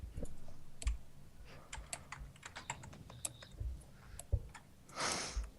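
Someone types a number on a computer keyboard, a quick, close series of light clicks and taps in an uneven rhythm, fairly quiet, ending with a brief soft rustle.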